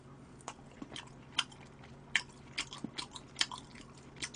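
Close, crisp crunching and biting sounds come from chewing smoked duck and spicy chicken feet, as a series of irregular sharp crackles over a quiet background.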